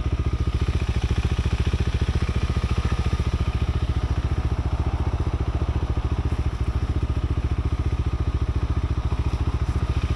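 A KTM 390 Adventure motorcycle climbs a dirt trail with new suspension and power mods, its single-cylinder engine thrumming loud and steady with a rapid pulsing beat and faint clatter throughout, no one speaking.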